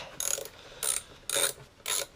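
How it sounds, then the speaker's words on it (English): A 3/8-inch ratchet loosens bolts on a 1991 Toyota Celica GT engine, with four short bursts of rapid clicking pawl action separated by brief pauses, close and clear with no talking. "Got my 3/8 ratchet."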